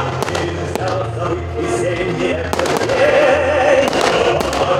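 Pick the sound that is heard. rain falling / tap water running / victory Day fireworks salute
victory Day fireworks salute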